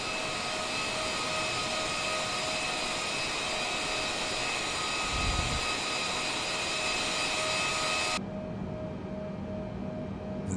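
Boeing 787 Dreamliner jet engines drone in a flight simulator game, a loud steady broadband roar with faint tonal whines, continuous throughout and shifting in tone near the end, with no talk.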